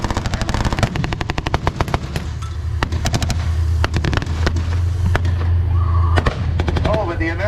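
Soviet-era tanks fire blanks during a museum battle demonstration in Oshawa, Ontario, loud rapid bursts of machine-gun-like cracks and bangs over a low rumbling engine, with an announcer's voice over the PA.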